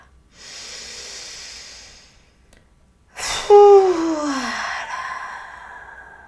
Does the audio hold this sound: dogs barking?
no